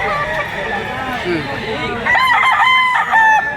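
A rooster crows loudly nearby near the end, a strained cock-a-doodle-doo over a background of clucking and people talking, among gamefowl including a bull stag, in Lipa, Batangas.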